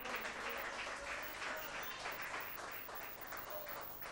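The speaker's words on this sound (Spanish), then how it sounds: "Fuertes aplausos al Señor." A church congregation applauds together in sustained, dense clapping that stays loud and steady from start to finish, with no voice above it.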